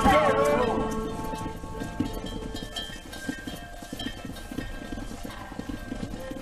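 Horse hooves clip-clop in Red Dead Redemption during a cattle herding ride, a steady rhythmic patter running under game music and shouted voices.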